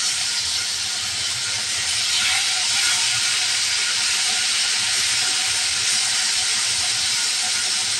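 Katla fish frying in oil in a kadai, a steady dense sizzle with hissing crackle running continuously and fairly loud, no voices.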